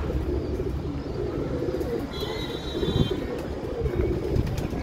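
Pigeons on a rooftop, with a female pigeon coming in to land: soft cooing and fluttering under steady wind noise, with a brief high chirp in the middle.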